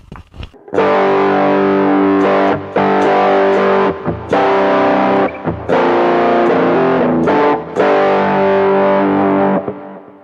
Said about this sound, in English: if I play just regular power chords, you'll hear this is distorted